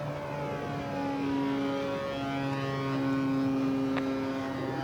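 A Byron Originals T-34B Mentor turboprop RC model airplane flying overhead, a steady droning whine with shifting tones as it passes at moderate distance.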